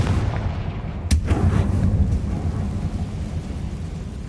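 A Confringo spell fired in Hogwarts Legacy sets off a sudden sharp blast that rolls into a long, rumbling thunder-like tail over constant noisy game ambience.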